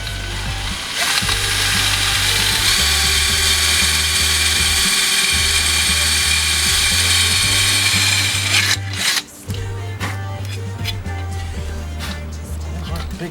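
A power drill whirs loudly in bursts while fitting a hydrofoil to a 25 HP Johnson outboard motor, its motor pitch shifting as it starts and stops, with a brief pause near the end.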